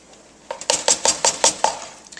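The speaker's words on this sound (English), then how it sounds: "So we stir while we add our cheese." A spoon stirs cheese into vodka sauce in a metal pot, knocking against the sides in about eight quick, evenly spaced clanks close by, with no talking.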